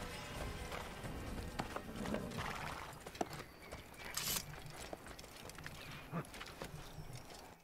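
Hooves clip-clop at a gallop and a horse neighs in the video game Assassin's Creed, the hoofbeats close and continuous under game ambience.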